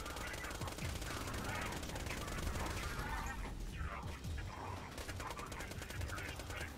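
Rapid automatic gunfire from a modded Hyperion SMG in the video game Borderlands 2, a dense continuous rattle of shots over game effects, steady and loud throughout the clip.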